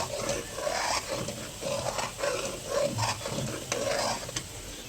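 Malai cooks down to ghee in a kadhai, a soft continuous sizzle broken by rhythmic scraping stirs that repeat about once a second, close and moderately loud with no talking.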